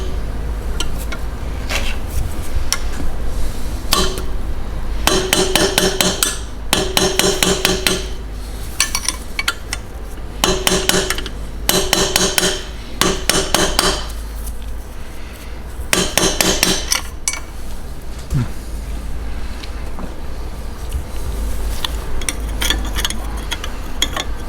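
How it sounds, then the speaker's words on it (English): Metal turbo parts are hammered during a car repair, sharp ringing clanks arriving in irregular bursts of rapid blows with short pauses between, close and loud. "See if you can hammer it on at that angle"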